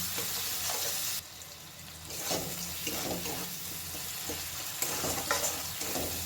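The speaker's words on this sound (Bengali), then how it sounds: "খুব ভালো করে মশলাটা কয়েক সেকেন্ড কষিয়ে নেব" Spice masala for aloo dum sizzles hard in hot oil while a spatula scrapes and stirs it in short strokes, close and busy, with no talking.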